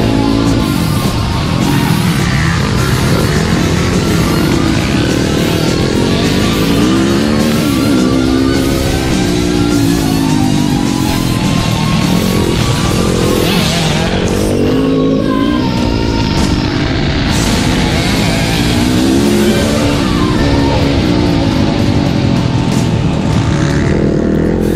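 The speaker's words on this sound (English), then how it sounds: "just listen to the beautiful sound of these little engines" Small motocross dirt bike engines on a track, a loud, steady roar of several engines revving and whining, pitches rising and falling as bikes pass, with no voices.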